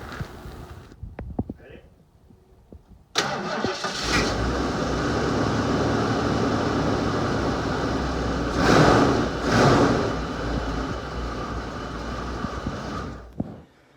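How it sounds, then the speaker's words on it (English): A big Ford 460 V8 engine in a Suburban cranks and roars to life on a cold start, then settles into a loud, rough idle with a couple of revs, close by. "That's a big old Ford 460."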